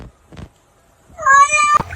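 A pet cat lets out one loud, close meow near the end, preceded by faint rustling and quiet indoor sounds.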